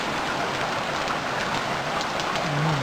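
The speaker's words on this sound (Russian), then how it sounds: "Я думаю, дождь скоро прекратится." Rain in the survival video game Stranded Deep, a steady, dense hiss of falling rain that holds at an even loudness throughout, with no talking.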